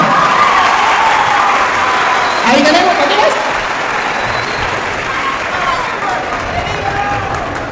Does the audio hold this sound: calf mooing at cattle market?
no